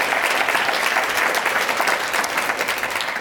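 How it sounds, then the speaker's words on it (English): Steady, dense applause from a large audience at a university summit on opioid policy, loud and even from start to finish with no voices over it. "Let's give her a round of applause as well."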